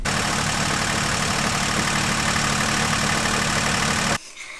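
A sailboat's outboard motor runs after an adjustment, a steady loud mechanical drone with a rhythmic clunk in it, then stops abruptly near the end.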